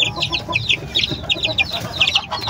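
Breeding chickens cluck busily at close range, with quick, overlapping bursts of clucks and chatter across the whole moment and no talk.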